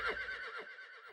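A horse neighs in a short, bright whinny with a shaky, descending pitch, fairly close and alone over a brief stretch.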